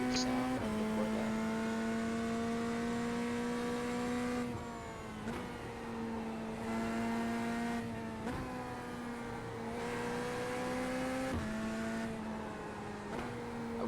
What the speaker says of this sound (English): let y'all listen to the great sound of the Corvette.